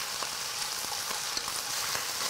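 Pork and fresh garlic shoots stir-fry in a hot pan, giving a steady close sizzle with faint clicks and scrapes of stirring throughout, with no one speaking.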